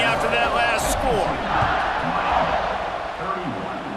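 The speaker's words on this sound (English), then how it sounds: "this crowd is buzzing after that last score" A football stadium crowd buzzes after a touchdown in Alabama versus Miami, a broad, dense roar of voices with scattered cheers under a commentator's steady talk.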